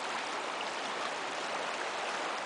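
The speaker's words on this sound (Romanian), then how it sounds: "Ne apropiem de apă." Steady rushing flow of the Arieș river, a broad continuous wash of water heard close and loud, unbroken throughout with no voices.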